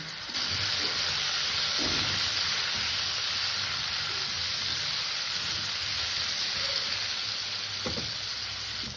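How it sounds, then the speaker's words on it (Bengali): Salted, turmeric-dusted potatoes frying in a pan on a gas stove, with a continuous close sizzle and hiss and a couple of soft stirring knocks. "এবার আলুটাকে ভেজে নেব"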